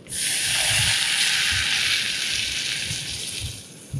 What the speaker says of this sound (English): a little splash of white wine